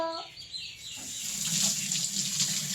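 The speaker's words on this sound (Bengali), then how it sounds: "এখন আমি পেয়ারাটা ধুয়ে নেব।" Guava is rinsed under a running kitchen tap, a steady close hiss of flowing water that swells and broadens after a brief clink at the start.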